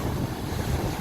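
Strong wind roars at the seashore just above sea level, buffeting the microphone with a loud, steady rumble blended with the wash of surf, with no voices.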